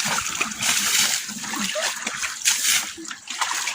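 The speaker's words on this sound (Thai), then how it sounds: "ปลาคาลงน้ำแล้ว" A fish splashes into water with repeated close splashes and sloshing, while people talk nearby.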